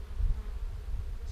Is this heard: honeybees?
yes